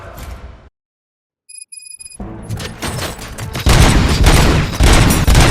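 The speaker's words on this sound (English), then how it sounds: "Gunshots? What's going on?" Bursts of rapid gunfire and booming shots from the video game Robocop: Rogue City ring out after a short silence and a few electronic tones, growing louder and denser toward the end.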